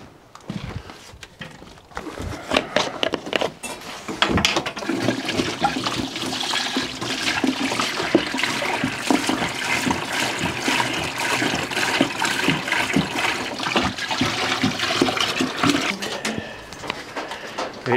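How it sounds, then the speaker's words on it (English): Water pours steadily into a bucket holding about 3 gallons, set up for electrolysis rust removal on an oil filter adapter; a continuous close rushing splash runs for most of the clip after a quiet start. "Then we'll put the water in."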